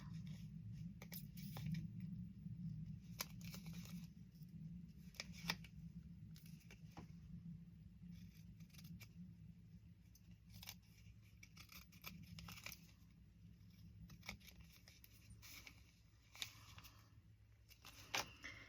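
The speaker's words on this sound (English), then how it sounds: "So I just trim off whatever white I see." Scissors snip and trim around paper cutouts, producing faint, scattered clicks and soft paper rustles over a low background hum, with no talking.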